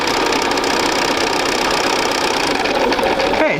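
A sewing machine stitches a quarter-inch seam in quilt fabric, a fast steady mechanical whirring and rapid needle clatter running continuously at close range and fairly loud, slowing briefly right at the end.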